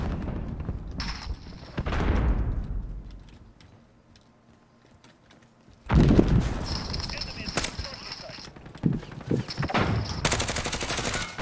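Call of Duty multiplayer gunfire: short bursts and rapid automatic volleys crack out in two clusters with a quiet gap between them, loud and close, with faint game ambience underneath.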